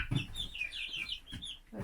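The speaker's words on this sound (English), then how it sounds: "The chickens already sound excited." Backyard homestead chickens cluck and make high, chirpy calls at moderate distance, a few overlapping voices rising and falling with no talk.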